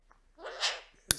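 A dog sneezes on command: a short breathy inhale builds into one sharp, close sneeze burst, then a brief snort at the end.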